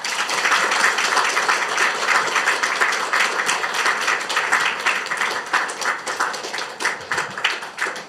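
A church congregation claps to welcome the pastor, a dense sustained round of applause from many hands filling the room and gradually thinning toward the end.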